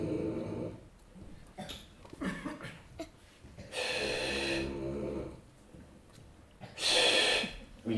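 An elderly grandfather snores in his sleep, with several long, rasping breaths at irregular intervals, close by and loud, separated by quieter stretches.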